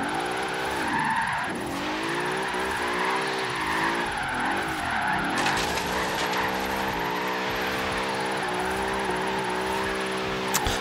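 A Bentley Bentayga drifts in Forza Horizon 3, its engine droning steadily while the tires skid and squeal with rising and falling pitch, loud and continuous throughout with no voices.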